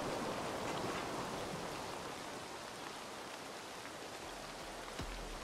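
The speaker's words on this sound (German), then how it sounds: "Warum regnet es schon wieder?" Steady rain in the video game Assassin's Creed Valhalla hisses evenly throughout, a dense wash of droplets with no pauses, fairly quiet and continuous.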